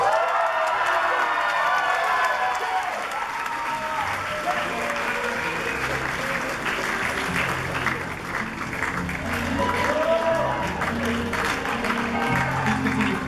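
Audience at a high school male pageant applauding and cheering steadily during the winner's victory run, a dense, continuous wash of clapping with scattered shouts and voices mixed in.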